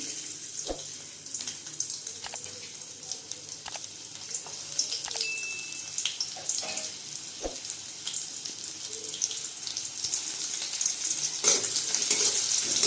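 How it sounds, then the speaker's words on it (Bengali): Steady frying sizzle of chopped onions in hot oil in a pan, with occasional clicks and knocks of utensils; no talking. "তেল গরম হয়ে গেছে কুচনে পেঁয়াজ দিয়ে দিচ্ছি"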